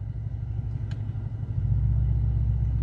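Mercedes-Benz C63 AMG exhaust in comfort mode: a steady, deep low rumble close by that swells a little louder partway through and holds there, with no pops or sharp revs.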